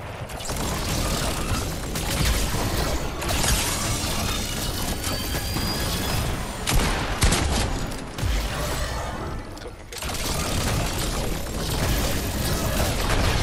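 Gunfire from a gun in a video game, loud bursts of shots and clattering mechanical impacts packed densely together, with short lulls between volleys and no clear talking.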